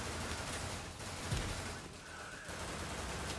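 Rapid, steady bursts of arm-cannon fire in the video game Severed Steel run continuously, with one heavier low thump near the middle and a brief lull before the firing resumes.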